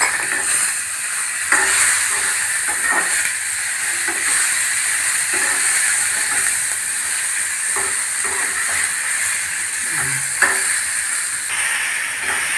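Onions and tomatoes frying in a pan for a tomato and fenugreek leaf chutney, a steady close sizzle with occasional scrapes of stirring.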